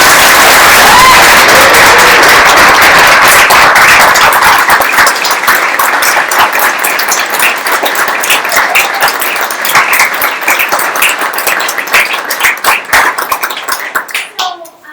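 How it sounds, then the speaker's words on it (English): Audience applause fills a coding bootcamp demo day presentation. Loud, dense clapping carries steadily, then thins into scattered claps and fades near the end. "give them one more round of applause"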